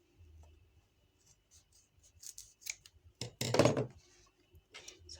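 Scissors snipping the ends of small ribbon on a handmade crochet bag, several quiet, crisp cuts with soft handling rustles between them and a louder cluster of snips near the end.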